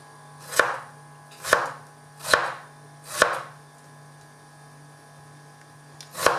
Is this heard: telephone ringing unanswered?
no